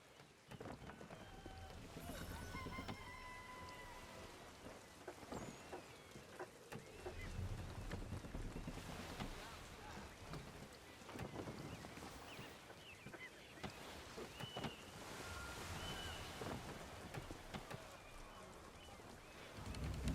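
A sailing ship in Assassin's Creed 3 pushes through shallow water, with a steady wash of water and wind noise running the whole time at low level. Faint game voices and effects come through now and then.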